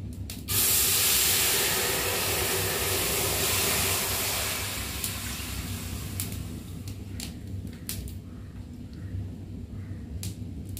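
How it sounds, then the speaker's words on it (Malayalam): Lemon, amla and onion juice is poured into a hot vessel for herbal hair oil, giving a loud steamy hiss that bursts in at once and slowly fades to a softer sizzle, with no talk. "നാരങ്ങയും അതുപോലെ നെല്ലിക്ക ഉള്ളി എല്ലാം കൂടെ നമ്മൾ മിക്സ് ചെയ്തിട്ടുള്ള ജ്യൂസാണ് ഈ കാണുന്നത് ഇത് നമുക്ക് ഈ ചൂടായി കിടക്കുന്ന ഈ പാത്രത്തിലേക്ക് ഒഴിച്ചു കൊടുക്കാം"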